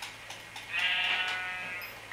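A sheep in the Minecraft video game bleats once, a clear, close and fairly loud wavering call lasting about a second, with a few faint clicks before it and no talk.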